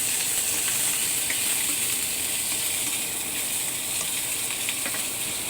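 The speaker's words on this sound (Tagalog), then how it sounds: "Ilagay ang isda. Ilagay ang tokwa." Fish and tofu fry in hot oil in a pan, a loud, dense, continuous sizzle and crackle that holds steady throughout with no talking.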